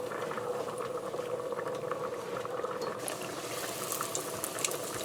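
Doubles dough frying in hot oil makes a steady, moderate sizzle and bubbling hiss with fine crackles, constant throughout and slightly brighter toward the end, with no talking.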